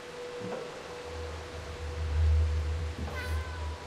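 Cats meow in the video game Stray, two brief meows a few seconds apart over a low steady ambient drone, moderately close.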